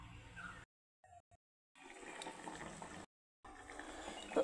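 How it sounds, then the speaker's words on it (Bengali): Paneer curry gravy bubbling in a pan, a soft continuous simmer of liquid with brief gaps of near silence, faint and close with no voices. "তো এখন আমি ঝোলটাকে আমি ফুটিয়ে নেব।"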